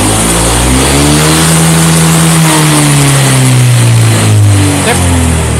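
Honda Vario 125 scooter engine held at full throttle, a loud continuous high-rpm rev that rises and sags slightly as revs waver, close by with no talk over it.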